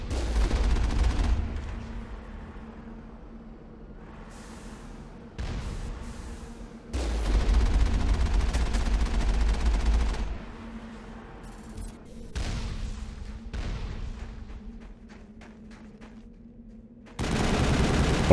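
Mako vehicle cannon fire against a turret in Mass Effect on the moon, heavy booming rounds and rattling bursts coming in several loud stretches separated by quieter gaps.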